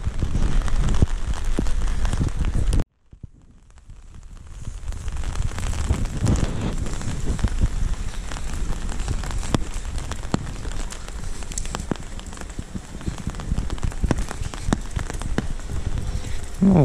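Rain falls on a street in Gijón, Asturias, a steady hiss with wind noise that cuts out briefly near the start and then resumes.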